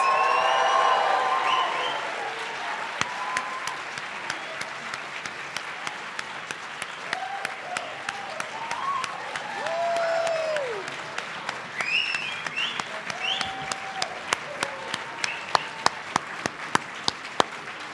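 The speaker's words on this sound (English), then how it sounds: "give one giant cheer and round of applause for our Year 2 and IDDP students" A seated audience at a university dentistry white coat ceremony breaks into sustained applause with cheering and whoops, a dense roar of clapping that continues steadily, with scattered louder claps standing out as it carries on.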